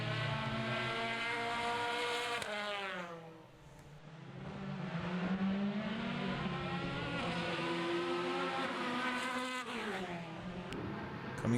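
Formula BOSS race cars at Mondello on a wet track sweep past one after another, high-pitched engines rising and falling in Doppler passes, the whine fading and then building again as more cars approach at a distance.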